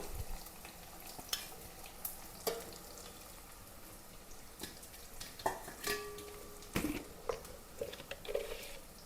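Chopped onion, shallots, ginger, green chili and garlic drop into hot oil and fry with a faint, steady crackle, punctuated by occasional utensil clanks and scraping stirs.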